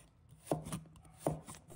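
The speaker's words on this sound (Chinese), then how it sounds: "一块生姜，切成片" A knife slices through a piece of fresh ginger on a cutting board with two crisp, separate chops spaced under a second apart, close and clear in a quiet kitchen.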